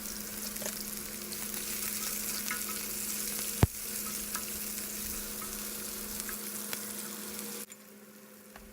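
Chopped onions fry in hot oil after mustard seeds for a vegetable kurma, giving a soft, steady sizzle with a faint low hum and one sharp clack before the sound drops away near the end.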